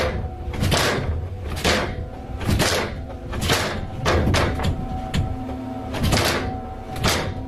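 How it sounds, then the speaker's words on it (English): An attic door rattles hard and jarringly around 4 a.m. in a house, recorded from inside a closet, with repeated loud rattling bursts in an uneven rhythm and no voices. "the attic door starts rattling jarringly"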